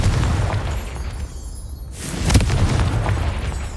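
A Confringo fire spell from Hogwarts Legacy bursts with a deep booming explosion, followed by a second rumbling blast about halfway through, loud and close with a whooshing tail.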